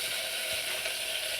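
A constant, hissing sizzle of spices tempering in hot oil, even and moderately loud throughout, with no talking.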